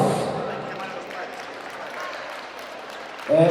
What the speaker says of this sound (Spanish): bienvenida a Daniel Castañeda Yance, a quien vamos a recibir con fuerte voto de aplausos.